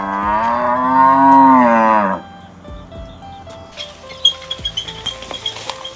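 A cow gives one long, loud, close moo. Afterward come quieter farmyard sounds with soft knocks and a run of light clicking taps.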